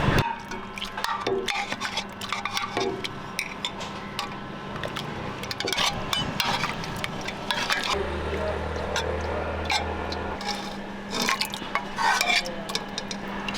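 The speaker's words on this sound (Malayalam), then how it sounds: "ആ ചേനയൊക്കെ നല്ല ഭസ്മം പോലെ വെന്ത് കിടക്കുകയാണ് നമുക്കിതൊന്ന് ഉടച്ചെടുക്കാം" Soft-cooked elephant foot yam is crushed in a pot with a utensil, making continuous wet squelching, scraping and occasional metallic knocks, close and steady throughout.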